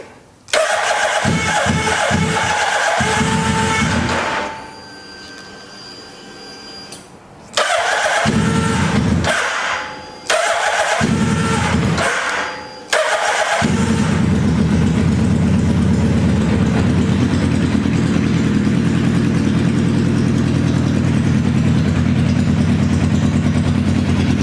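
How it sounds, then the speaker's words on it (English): A wrecked 2011 Suzuki Hayabusa motorcycle with a faulty start button, heard up close as its starter cranks in several loud bursts with pauses between, until the engine catches and settles into a steady idle. "So I'm gonna turn the key on a couple of times to prime up the fuel pump."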